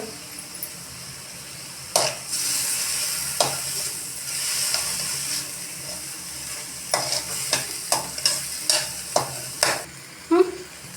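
A spoon stirs spices with chilli powder sizzling in a hot pan, with a steady fry hiss and a run of sharp scraping clinks toward the end.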